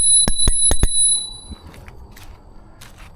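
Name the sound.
bell on 5th Wheel V40 Pro electric scooter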